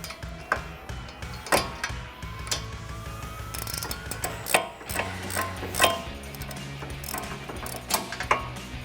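A hand ratchet wrench on an extension with a shallow socket works loose a rear wheel bearing bolt on a 2015-2025 Ford Mustang, giving repeated close metallic clicking and ratcheting strokes with clanks in between, and no talk.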